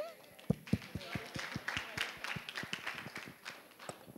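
Scattered clapping with distinct individual claps, loose and uneven in rhythm, over background chatter and a lively room.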